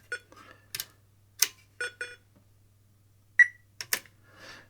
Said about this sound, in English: at least the chip's running because it's beeping. It sounds like Pong, doesn't it?